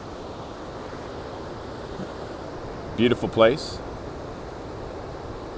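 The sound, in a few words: ocean surf at Ocean Beach, San Francisco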